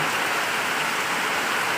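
Heavy rain pours down hard at night onto the ground around a house, a dense, steady broadband hiss with no break, loud and close.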